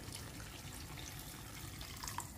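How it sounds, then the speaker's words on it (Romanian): Water streams steadily into a pan of Romanian sarmale (cabbage rolls with smoked ribs), a soft continuous pouring and splashing with a few small drips. "o să pun și ceva apă"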